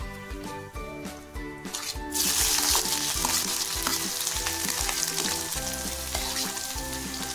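Onion hits hot oil in a pan where leftover bread is being turned into crumbs. A loud, bright sizzle bursts in and then carries on steadily, with faint stirring clinks and background music underneath.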